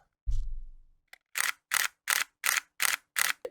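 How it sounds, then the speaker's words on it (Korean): Nikon D610 DSLR shutter firing in a quick, even burst of seven sharp mechanical clacks, preceded by a low thump and a faint click, close and clear with no talk. "이 카메라의 셔터 소리도 한번 들어보시죠"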